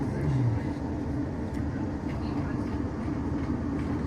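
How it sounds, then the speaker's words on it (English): A West Midlands Railway train on the Wolverhampton–Birmingham New Street–Walsall line runs with a constant low rumble and wheel-on-rail noise heard from on board, steady and fairly loud throughout. "This is a train service bound for Birmingham New Street"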